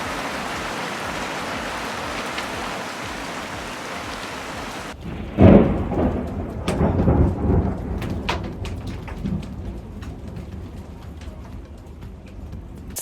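Rain and a thunderstorm in the Albanian mountains near Komani Lake: steady downpour hissing on surfaces, then a loud close thunder crack followed by long rolling rumbles with pattering drops, no voices.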